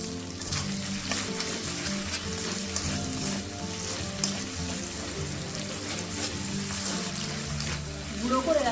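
Spice paste with a little water and sugar frying in oil until the oil separates, a continuous close sizzle and bubbling with occasional stirring scrapes, no one talking.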